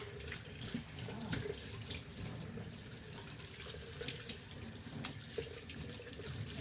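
Tap water runs steadily while shampoo is rinsed off a pet during a bath, a quiet continuous splashing rush with a few faint drips and no talk.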